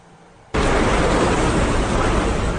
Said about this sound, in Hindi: यह बेरूत में हुए धमाके का अनदेखा वीडियो है।